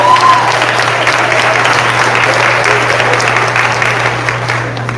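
A large crowd claps loudly and continuously, the applause filling the room at an even level the whole time.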